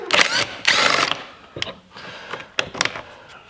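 A T30 screw is backed out of the front cover of a Maverick X3 Turbo, heard as close, sharp ratcheting clicks in two long bursts and then shorter scattered clicks.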